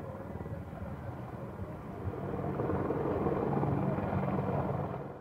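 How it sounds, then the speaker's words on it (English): An Apache attack helicopter flies overhead at an air show, its rotor drone swelling louder toward the middle and fading slightly, a steady rumbling roar from a moderate distance. "this attack and anti-tank helicopter in service"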